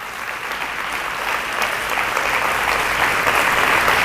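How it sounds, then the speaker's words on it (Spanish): A church congregation applauds steadily for several seconds in praise, the clapping building slightly toward the end with no voices over it. "Alguien ayúdeme a darle un aplauso de alabanza a Él."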